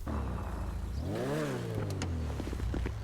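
Truck engine revving in a truck-driving video game, a steady idle rumble that swells into one rising and falling rev near the middle, then settles back to a low drone with a few light clicks on top.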